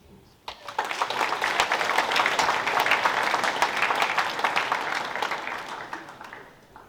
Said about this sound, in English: Let's give Lucas, as well as Philip, Emma and Harper a round of applause.